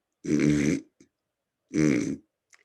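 A person snorts twice through the nose in imitation of a hippo, each burst heavy and rumbling, separated by a second of silence with small sniffs.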